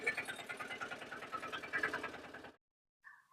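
A vehicle engine running during a test drive, a steady rhythmic chugging pulse for about two and a half seconds that cuts off abruptly, followed by a brief tonal beep.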